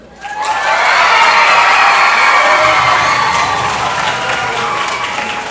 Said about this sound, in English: Let's have a nice round of applause for Cynthia Gorney